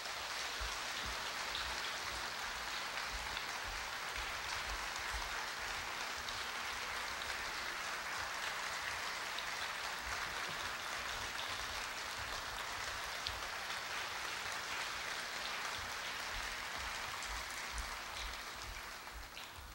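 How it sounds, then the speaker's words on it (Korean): Dense, sustained applause from a large audience at a university anniversary ceremony welcoming award recipients to the stage; a steady wash of many hands clapping continues for about twenty seconds, easing slightly at the end. "따뜻한 박수 부탁드리겠습니다"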